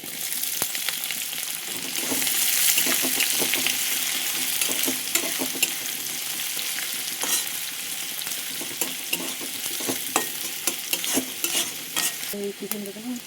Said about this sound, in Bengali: কুচিগুলো তেলে দিয়ে দিয়েছি, একটু লাল হয়ে গেছে, এবার আমি দিয়ে দেবো পেঁয়াজ কুচি